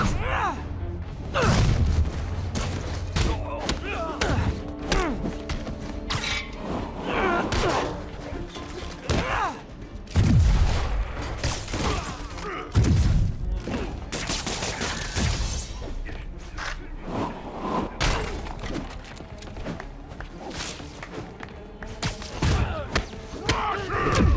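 Gunfire and heavy booms from enemy soldiers opening fire in the game Marvel's Spider-Man, loud and dense, with repeated impacts and crashes over about twenty seconds under shouted voices.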